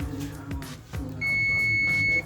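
A single continuous high-pitched beep from a multimeter continuity buzzer sounds for about a second, close and clear over faint handling noises.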